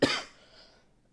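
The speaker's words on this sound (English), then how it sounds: "That's a cough, dry cough." One short, dry cough close to the microphone, a single sharp burst that fades quickly into quiet.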